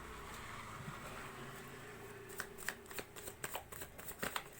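Tarot cards are shuffled and drawn by hand, soft riffling at first, then a run of crisp card flicks and slaps close up, with no speech.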